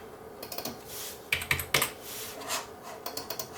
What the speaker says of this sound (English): mashed the keyboard a little bit hard there